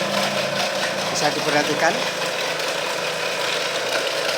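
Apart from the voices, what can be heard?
automatic ice cream making machine running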